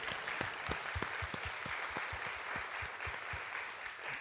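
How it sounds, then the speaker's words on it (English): A room of attendees at an economic justice event applauds for Dr. King, a steady wash of clapping with some distinct close hand claps, moderately loud and sustained throughout. "Yes, we can clap for Dr. King."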